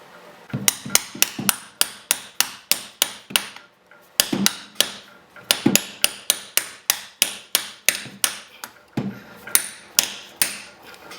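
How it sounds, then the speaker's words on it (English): A hammer taps a 1 1/8 inch socket to drive a Ski-Doo snowmobile rotary valve seal into place, a close series of sharp metallic knocks in quick bursts with short pauses between, no talking. "I've got a 1 1/8 inch socket, and we'll just tap this thing back in like so"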